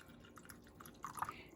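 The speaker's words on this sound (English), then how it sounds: "I'm going to pour the water in the middle." Water poured into a well in the middle of bread dough, a faint soft trickle ending in a few brief brighter splashes near the end.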